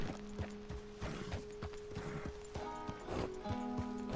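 A horse's hooves clip-clop in Red Dead Redemption 2 in a steady walking rhythm, close and distinct, over a low sustained musical drone.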